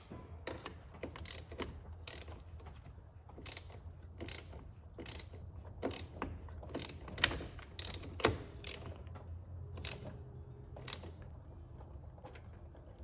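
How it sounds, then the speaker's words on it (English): A ratchet wrench turns a connector during an S13 battery job, giving repeated sharp clicking bursts in an irregular rhythm, close and fairly loud, with no talking. "I'm actually going to start this with a ratchet."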